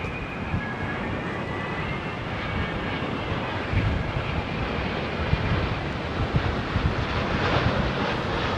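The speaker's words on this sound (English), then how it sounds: "Listen to the engine pitch." A Virgin Atlantic Boeing 787 lands at London Heathrow amid smoke from nearby fires. Its jet engines give a steady, loud roar mixed with wind buffeting, running unbroken throughout with no talk.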